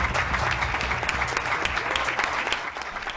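A crowd applauds at a municipal farewell in Vitacura, Chile, as a mayor closes 25 years in office, the clapping dense and sustained over a low, muffled background rumble.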